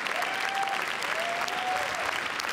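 A large audience in the Grand Théâtre Lumière at the Cannes film festival applauds a film team, steady sustained clapping filling the hall, with a faint voice briefly audible in the background.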